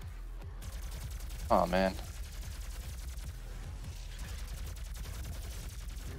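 Plasma rifle in Doom firing as a steady stream of rapid, fairly quiet ticking shots under game noise, with a voice speaking briefly near the start.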